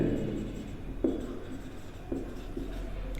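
A pen scratches across paper during a math lesson, with faint, close strokes and occasional sharper taps continuing steadily with no one speaking.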